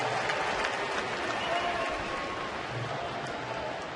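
Sunday night baseball stadium crowd of about 30,000 at a Houston at Texas game applauds in a broad, distant wash of clapping that holds steady throughout.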